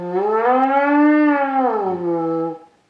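A trumpet without its tuning slide playing a long wavering siren-like tone that rises and falls smoothly in pitch, imitating a fire engine siren, alone and close.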